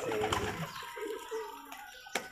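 Soft cooing of Rajshahi flying pigeons, a few low burbling calls close by, followed by a sharp brief knock near the end.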